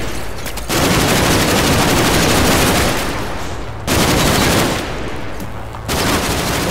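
Gunfire in the Combat Mission Shock Force video game rolls in long dense bursts of rapid shots, loud and close, with brief gaps between the volleys.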